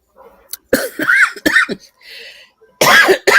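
Several harsh coughs burst out in quick clusters, close and loud, separated by brief quiet gaps.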